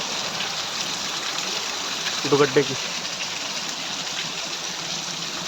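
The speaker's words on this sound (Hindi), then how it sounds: "ये देखो ये है झरना" A roadside waterfall near Kotdwar gushes in a constant, full rushing wash, with someone speaking briefly over it partway through.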